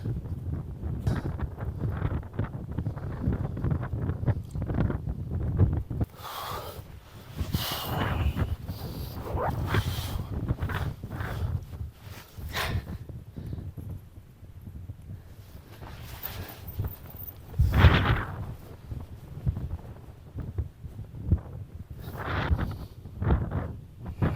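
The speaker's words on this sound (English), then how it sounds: "That wind chill is absolutely brutal." Strong gusting wind on a frosty UK mountain, roaring and buffeting close against the microphone throughout, with a few brief lulls and sharper gusts.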